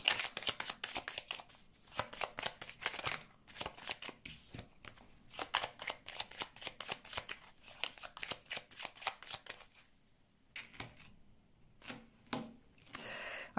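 Tarot cards being shuffled for a reading, a dense run of quick riffling flutters and soft slaps that repeats in bursts with short pauses, close and fairly loud, no talking.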